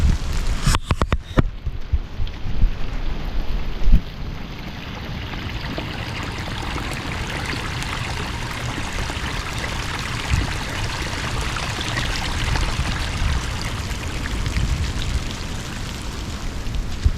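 Rainwater gushes steadily from an 8-inch French drain pipe near a catch basin, a continuous loud rushing pour with a few sharp knocks at the start.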